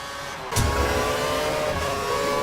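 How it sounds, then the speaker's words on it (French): Formula 1 cars in a racing video game at the Canadian circuit, a steady mid-pitched engine drone that jumps louder after a brief sharp burst about half a second in, then holds a continuous high whine alone. "La Red Bull à la poursuite de la Force India de Domi."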